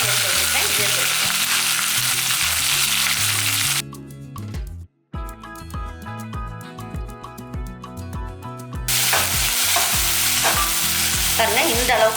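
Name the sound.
onions frying in oil with mint leaves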